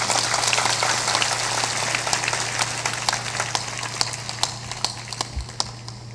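Audience in a devotional discourse hall clapping along with steady rhythmic hand claps under a constant low hum, loud and continuous for the whole stretch.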